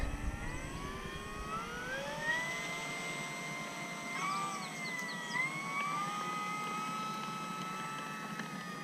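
An FMS P-40B Tomahawk RC model plane climbs out on takeoff, its motor whining steadily and rising and falling in pitch as it pulls away, moderately loud and continuous with no talk.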